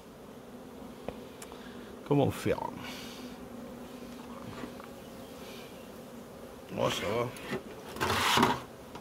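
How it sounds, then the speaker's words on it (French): Honeybees hum in a low, steady drone around a small hive box, faint and continuous beneath a man's close, intermittent speech and a few handling knocks. "Donc là-dessous, je suis plein d'abeilles."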